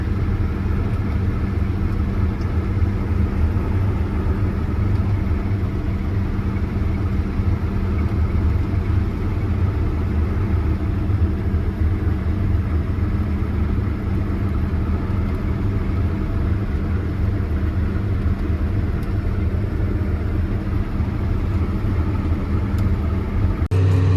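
A farm vehicle cruising down a road after a day of wheat harvesting, heard as a steady, continuous engine rumble with low road noise that holds evenly throughout, with no talk over it.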